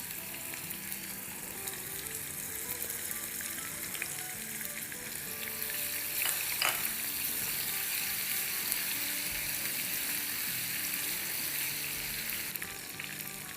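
Dried red chillies, cumin and crushed garlic sizzle in hot oil for dal, a steady close frying hiss with faint crackles and occasional stirring, with no talking.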